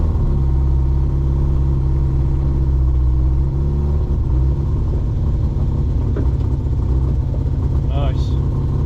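A car with a loose exhaust, checked for a cooling-fan and radiator fault, drives with a loud, steady low engine rumble throughout, briefly swelling as it responds sharply to the throttle, with a faint voice near the end.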